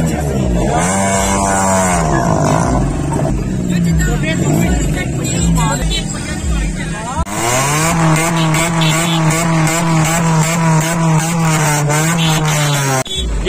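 A modified Toyota Corolla with an aftermarket silencer exhaust at a car show in Lahore drones loudly and steadily, rising in pitch as it revs, with a second strong rev partway through and people talking underneath.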